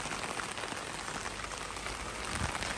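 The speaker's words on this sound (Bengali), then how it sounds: "আজকে ভোর রাত থেকে বৃষ্টি শুরু হয়েছে, অনবরত বৃষ্টি হইতেছে" Steady, continuous rain pours down on a rooftop garden of coconut, lychee and date plants, a dense even hiss with no break and no voices.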